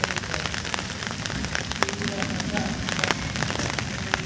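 Steady rain pours down outside a family home, a dense continuous patter with scattered sharper drops landing close by, carrying on evenly throughout with no other sound rising above it.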